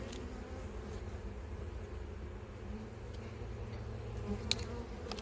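Honeybees at an apiary hive make a steady, low, faint hum close by, with a few brief louder buzzes as single bees pass near, and no speech.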